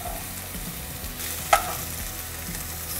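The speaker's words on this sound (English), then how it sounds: "So just to take the raw smell out of the onion and ginger, I'm going to saute it for a few minutes." Onion and ginger sauté in a hot pan, a dense continuous sizzle with crackling fat and a single sharp clink of a utensil midway, close and fairly loud.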